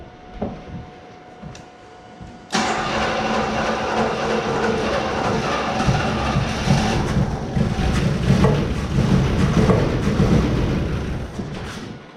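An old Buick Electra being revived, its engine cranking after a quiet pause, a sudden loud, steady churning roar that holds for about ten seconds before easing off.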